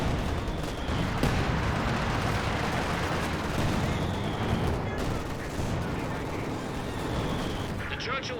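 Anti-aircraft fire rumbles continuously through a World War II strategy game battle, a dense, dull barrage of distant shots and blasts running steadily beneath a voice talking throughout.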